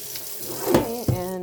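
Water pours onto potting soil in a container with a solid lid beneath, a close, fairly loud splashing gush with two sharper bursts as the stream lands.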